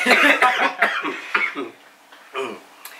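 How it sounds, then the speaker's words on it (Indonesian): A burst of several sharp coughs up close, followed by a few weaker throat-clearing coughs trailing off. "Sebelum gue jawab, gue batuk dulu ya."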